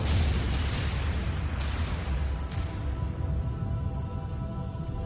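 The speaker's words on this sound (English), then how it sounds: "The biggest explosion of all time." A deep, rumbling blast of a comet striking Earth opens loudly and rolls on as a sustained roar, with a couple of sharp cracks within the fading rumble.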